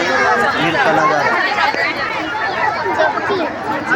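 A large crowd at Munger ghat on Maghi Purnima fills the air with dense, continuous chatter and babble, many voices overlapping close and loud throughout.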